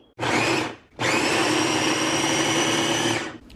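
A food processor grinds falafel mixture to a coarse crumb rather than a paste: a short whirring burst, a brief pause, then a longer steady high-pitched motor drone that cuts off near the end.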